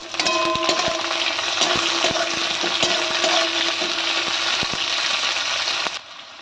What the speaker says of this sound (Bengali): পেঁয়াজ দিয়ে দেবো লঙ্কা দিয়ে দেবো পেঁয়াজ আর লঙ্কাটা আর একটু ভেজে নেব